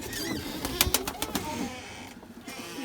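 Pigeons in a white-pigeon loft, with a burst of wing flaps and scuffling near the middle over soft cooing and background bustle, fairly close and moderately loud.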